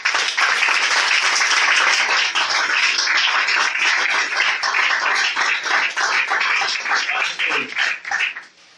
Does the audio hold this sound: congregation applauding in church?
yes